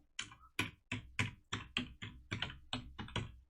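Keys struck on a computer keyboard while a command is entered at a command prompt, about ten distinct clacking keystrokes in a steady, slightly uneven rhythm, close and clear with no talking.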